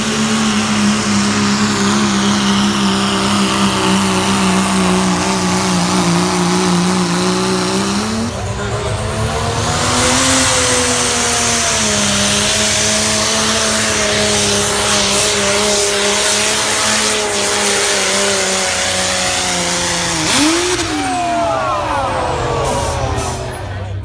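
A four-wheel drive tractor at a county fair tractor pull roars loudly and steadily, its engine revving and shifting pitch through a long run, with a brief surge and squeal near the end.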